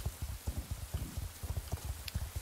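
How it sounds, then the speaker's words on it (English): Rain falling in the Star Stable horse-riding video game, a steady patter of soft, closely spaced drops that carries on without a break, with no speech over it. "rain sounds and you can still see the rain."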